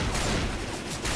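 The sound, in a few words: gunfire in video game Left 4 Dead 2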